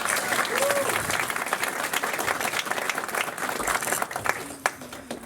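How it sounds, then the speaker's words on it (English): Audience at a magic club show applauds a volunteer coming up on stage, steady broadband clapping for about five seconds with a brief voice and whoop partway through. "Let's give her a round of applause, everybody"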